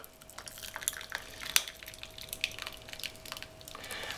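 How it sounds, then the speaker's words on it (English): Hot water poured over frozen gel in a cup gives faint, scattered drips, trickles and small splashes, with one sharper splash near the middle and no voices heard. "So I'm going to just put it in a cup and then pour hot water"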